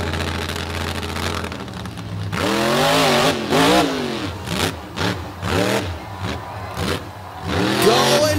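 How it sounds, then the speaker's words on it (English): Monster truck Dirt Crew, a dump-truck body built for jumps, revs its engine hard at a beach event, the roar swelling and dipping through repeated throttle blips, loud and close over a steady crowd wash. "This is the awesome flying dump truck called Dirt Crew."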